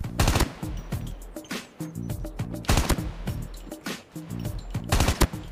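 Automatic gunfire in the mobile shooter game COD Mobile, with rapid bursts of close, sharp shots in quick rhythmic volleys separated by short gaps.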